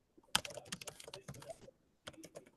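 Brisk keystrokes on a computer keyboard in a quiet room: a rapid burst of clicks, a brief pause, then a few more taps.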